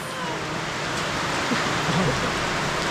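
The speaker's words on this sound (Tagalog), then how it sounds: "Lakas ng ulan!" Heavy rain roars as a steady, dense hiss with no breaks throughout, loud and all around, while a voice is faintly audible beneath it.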